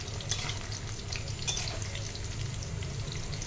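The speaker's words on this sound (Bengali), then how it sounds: "পকোড়িগুলো দেখো ভাজা করে নিচ্ছি, এক এক করে দিয়ে দিয়েছি" Marinated pakoras frying in hot oil in a wok, a dense, steady sizzle and crackle close up, with small bubbling pops and no talking.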